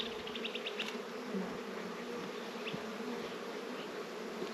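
Honeybees buzz continuously in a soft, steady drone, with a few brief higher whines as individual insects fly close.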